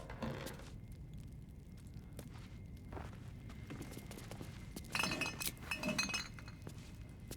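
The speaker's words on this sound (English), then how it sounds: "Glass distillation set." A glass distillation set in a cellar in Baldur's Gate 3 clinks in scattered light taps and rattles, with a busier cluster of chinks midway, over a low ambient rumble.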